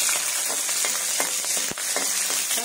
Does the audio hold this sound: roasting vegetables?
yes